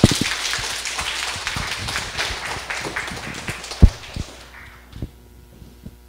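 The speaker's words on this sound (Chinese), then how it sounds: "现在让我们用最热烈的掌声欢迎台湾民政府的大家长林志升秘书长。" An audience claps warmly at the opening ceremony of a Taiwan Civil Government advanced administrative seminar: dense, steady applause that fills the room, then thins out and fades after about four seconds, leaving a few scattered claps.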